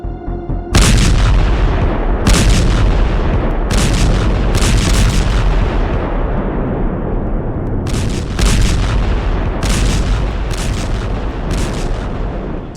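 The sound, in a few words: artillery fire in war footage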